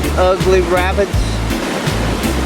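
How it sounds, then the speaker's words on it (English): Whitewater rapids roar and surge on the New River as rafts approach a drop, a steady loud rush of churning water with a voice speaking over it near the start. "Get ready to drop into double Z's Rapid."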